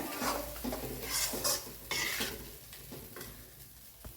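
Steady sizzling of food frying in oil for tomato kulambu, broken by repeated scraping and stirring clinks of a utensil against a pan.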